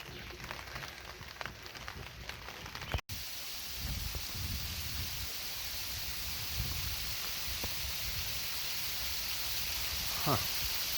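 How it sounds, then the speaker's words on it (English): Rain falls on a tent during a backpacking trip in Grand Canyon National Park. A faint, steady hiss of patter continues throughout, with a brief sharp sound near the start. "As we can hear, it is raining."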